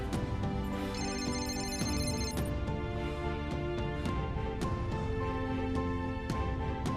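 A phone rings after a number is dialed on a mobile handset, a repeating electronic ringtone melody with steady pulses, loud and close, carrying on throughout with no talking.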